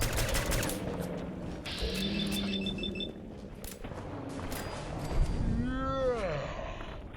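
Butchers in Fallout 4 fire guns in bursts of rapid shots, sitting low under a player's talk and in-game sounds, with a whooshing tonal effect near the end.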